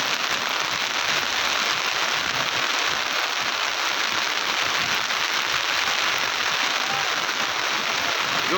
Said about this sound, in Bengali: ঝুম বৃষ্টি নামছে, ঝুম বৃষ্টি।